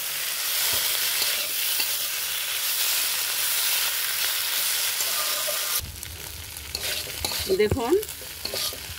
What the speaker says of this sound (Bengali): এগুলো দিয়ে এখন নাড়াচাড়া করে মাখো মাখো করে নেব